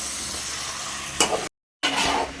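Chicken curry with salt and turmeric is stirred in a pan over steady frying sizzle, with a brief scrape of the utensil and a short dropout midway before the sizzling resumes.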